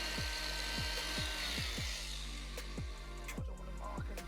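Angle grinder cutting the bottom off a bolt on a car's sill, a loud steady grinding whine with repeated rhythmic low thumps throughout, close and without talk.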